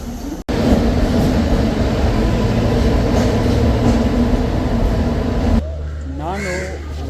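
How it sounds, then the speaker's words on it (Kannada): A Vande Bharat express train pulling into a station in Bengaluru, a loud, close, sustained rumble and rail roar that suddenly drops away, followed by someone talking. "ವಂದೇ ಭಾರತ್ ಟ್ರೈನು"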